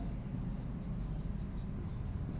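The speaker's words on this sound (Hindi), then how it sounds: "इसके बाद फिर मैं यहां पे लिखता हूं आपके सामने" Chalk or marker scratching steadily on a classroom board during a spoken English lesson, a continuous close, moderately quiet scraping with faint broadband strokes and no talk over it.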